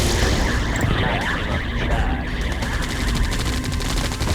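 Rapid automatic cannon fire from Gatling tanks in the real-time strategy game Yuri's Revenge, a dense, continuous rattling barrage with overlapping shots and game effects, loud and steady throughout.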